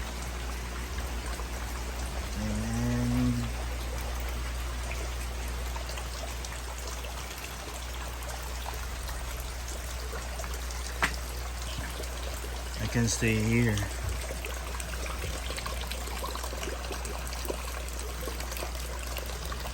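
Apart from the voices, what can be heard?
rain and trickling water at a crayfish pond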